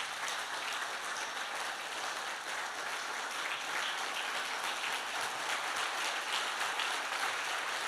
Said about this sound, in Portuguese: Se põe de pé em nome de Jesus, aplauda bem forte ao Senhor Jesus.